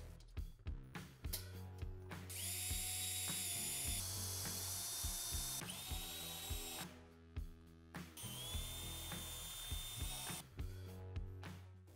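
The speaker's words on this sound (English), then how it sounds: "We are going to need to drill holes for that." A power drill bores holes through the crossbar of a Kawasaki KRX 1000 UTV for a license plate mount, whining in several rising bursts separated by short stops and clicks, close and loud, with no talking.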